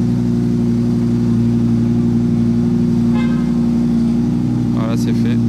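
An Audi R8 V10 convertible idles loudly and steadily in front of a hotel while its roof closes, a constant low engine drone with brief faint mechanical whirs and clicks near the end.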